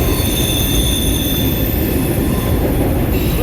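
Train rolling past beneath a bridge at Harpers Ferry, loud and close, with a continuous heavy rumble and high wheel squeal running the whole time.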